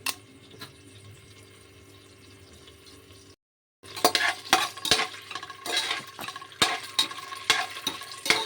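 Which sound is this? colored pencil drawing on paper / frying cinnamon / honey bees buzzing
frying cinnamon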